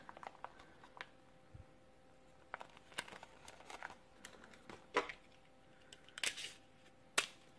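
Faint crinkling and sticky tape sounds come from tape being pulled and pressed onto a homemade fruit fly trap, with scattered soft rustles and a few sharper crackles in a quiet room.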